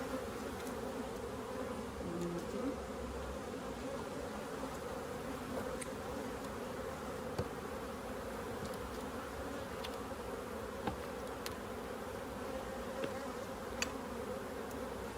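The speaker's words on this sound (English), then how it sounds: "So what I'm going to do is I'm going to shake the bees off." Honeybees hum steadily around a hive, a constant close buzz with a few sharp clicks and taps.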